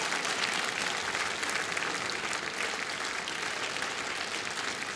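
A theater audience applauds steadily at a comedy show, a dense even wash of many hands clapping that holds at constant loudness throughout, with no voices over it.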